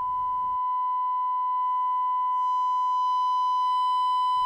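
A continuous steady test tone runs through a pentode vacuum tube amplifier, with added harmonics building up as it distorts. It plays alone, loud and unbroken throughout.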